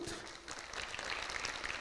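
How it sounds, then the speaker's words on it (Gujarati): Audience applause at an international blood donation camp event, a dense continuous wash of many hands clapping at steady, moderate loudness throughout, with no break or pause. "તો આપણે એકવાર જોરદાર તાળીઓથી વધાવીશું"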